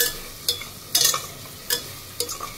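Chicken with masala is sautéed and stirred in a pan: a soft sizzle runs throughout, broken by four or five sharp scraping stirs at uneven intervals, close and fairly loud.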